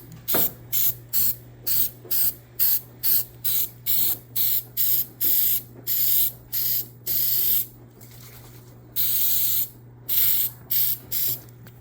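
Rust coating is sprayed onto a 1996 Jeep Cherokee XJ in repeated short bursts, each hiss lasting under a second with brief gaps, close and loud, a low steady hum beneath.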